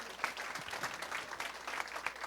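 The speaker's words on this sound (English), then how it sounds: "another round of applause for the Underline." An audience at a transportation excellence awards ceremony gives a round of applause, with dense, steady clapping heard from a distance in a large hall.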